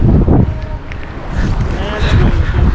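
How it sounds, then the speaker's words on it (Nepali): Strong wind buffets the microphone outdoors in Chhusang, Nepal, a loud rumbling roar that rises and falls in gusts, with voices speaking beneath it. "बवाल हावा उडिरहेछ"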